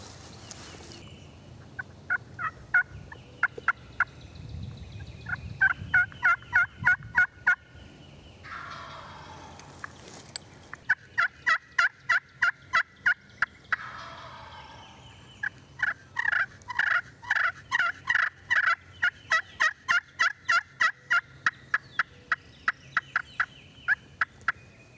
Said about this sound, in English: I know he's over there strutting right now, because I think I hear him drumming.